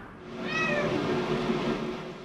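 A cat rescued after being dumped in central Alberta meows close by, one drawn-out plaintive cry over a steady background hum, with no talking.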